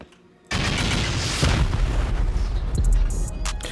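Rocket explosions blast against a base wall during a raid in the game Rust: a sudden loud boom lands, then a sustained roar follows with further heavy impacts and crackling debris.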